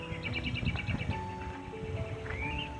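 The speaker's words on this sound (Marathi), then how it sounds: "पक्ष्यांचा काय भारी आवाज येतोय ना." Birds calling in a Konkan forest, several chirping, tweeting voices overlapping at moderate distance, with repeated high chirps and a rising whistle amid a busy background of insects and rustle.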